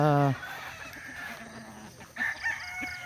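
Gamefowl crow and cluck at a festival, with a loud rooster-like crow at the start and scattered fowl calls after it. Someone talks over them throughout.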